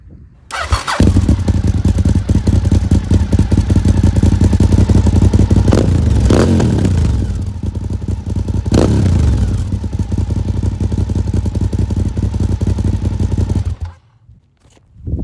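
A Honda RC51 motorcycle engine starts and idles loudly with a rough, rumbling clatter, revving up sharply a couple of times before cutting off.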